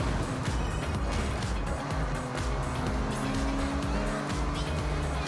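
Racing cars roar in the Forza Horizon 6 video game while chasing an RX-7, with engines droning loudly and continuously and tires squealing through the whole stretch.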